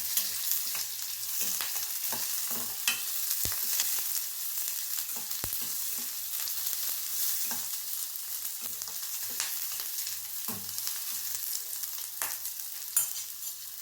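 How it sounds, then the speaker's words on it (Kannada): Onions frying in a pan for chicken green masala, a steady close sizzle with occasional stirring scrapes and clinks throughout. "ಈರುಳ್ಳಿ ಫ್ರೈ ಆಗ್ತಾ ಇದೆ ಇವಾಗ."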